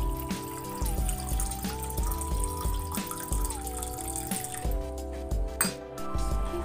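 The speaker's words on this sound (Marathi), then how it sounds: "माठात पाणी भरून ठेवलं." Tap water running steadily into a clay water pot at home, a continuous splashing trickle with occasional light clinks, close by, with a faint tonal hum beneath.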